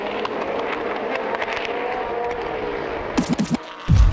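Race cars run down the front straight at the 2018 4 Hours of Portimao, with a continuous engine roar swelling as cars pass. Bursts of wind buffeting are heard near the end.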